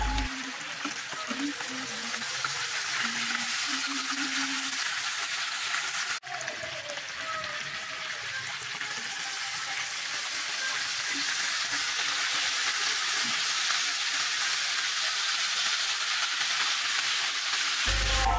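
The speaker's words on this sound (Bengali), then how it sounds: "যাতে ভেঙে না যায়, সেভাবে খুব সাবধানে মাছটা ভাজছি।" Fish fries in a pan with a continuous loud sizzle and crackle of hot oil, steady throughout, while a voice speaks faintly at the start.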